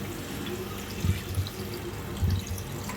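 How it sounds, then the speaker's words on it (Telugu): Water pouring into a chicken and broad bean curry, a soft trickling splash with a couple of brief stronger gushes over steady low background noise. "అట్లాగే కొంచెం వాటర్ పోసుకుందాం మనం"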